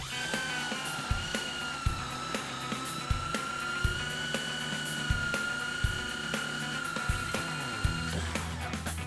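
A power drill fitted with a Warrior spade bit bores through hardwood with a steady high whine. Regular knocks and catches come through as the bit cuts, and no one speaks.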